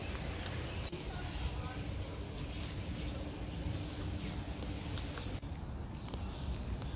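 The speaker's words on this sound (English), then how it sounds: "Can you hear the rain?" Steady rain falls in a lakeside park, a dense, even patter close around the listener that runs on without a break, with faint bird sounds in the background.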